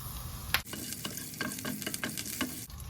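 Fennel seeds and curry leaves fry in hot oil while a spoon scrapes the pan in repeated short strokes over a constant crackling sizzle, ending abruptly.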